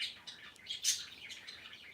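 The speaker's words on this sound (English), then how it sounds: "it wouldn't be my channel if you didn't hear the birds in the background" Pet birds chirp and tweet in short, irregular bursts somewhere in a home, fairly faint and a little distant, with no talking.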